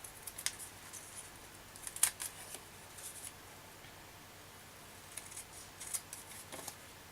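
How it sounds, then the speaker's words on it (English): Scissors snip along the edge of a sheet of paper while trimming a stamped card, a few quiet, crisp cuts spaced apart against a faint room background. "let's just cut along the piece of paper so we get rid of the edges here"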